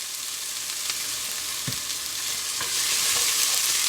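Garlic frying in oil in a pot crackles and sizzles steadily while a spoon stirs it, with a few soft scrapes and taps close by and the hiss growing slightly louder toward the end.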